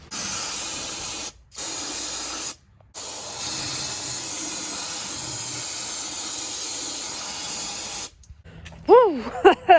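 Brake cleaner hisses from an aerosol can onto a vehicle differential in a garage, in several loud bursts separated by brief pauses, followed by a short whoop of a voice near the end.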